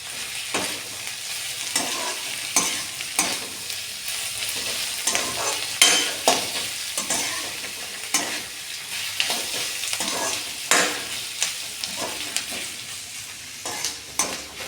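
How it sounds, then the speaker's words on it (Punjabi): Chopped onions frying in oil in a pan, a steady close sizzle broken by repeated scraping strokes of a spoon stirring them, with no talk. "ਹੁਣ ਆਪਾਂ ਪਿਆਜ਼ ਜਿਹੜਾ ਉਹਨੂੰ ਪਹਿਲਾਂ ਭੁੰਨਾਂਗੇ"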